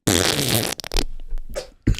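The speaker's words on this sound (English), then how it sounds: "Every time you fart" A loud, close fart blasts for most of a second, followed by shorter sputtering bursts and a final quick puff, with no voices.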